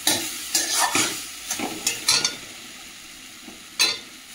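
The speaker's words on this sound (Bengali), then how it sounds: "এবার ঢেকে ঢেকে ভেজে নেব শাকটা।" Leafy greens fry in a pan under a lid, with a soft sizzle and several scraping, stirring strokes of a spatula in irregular bursts, close by.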